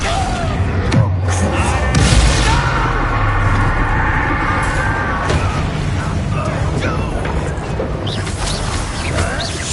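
Spell blasts in the video game Hogwarts Legacy, loud booming explosions and thuds over a dense battle din, with a voice speaking through it.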